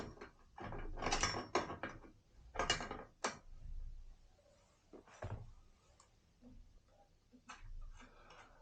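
A large nut on a steering assembly is loosened with a 36 mm wrench, giving a few close metallic clicks and ratcheting clunks in irregular bursts, with quieter mechanical taps between them.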